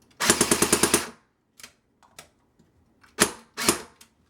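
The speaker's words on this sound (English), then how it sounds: "full auto can literally rip your piston to shreds, so I'm never going to use full auto except for this test" Full-auto bursts from an airsoft SVU OTS-03 rifle: a loud rapid string of about eight sharp mechanical shots, then scattered clicks and two further short bursts, close and alone with no talking.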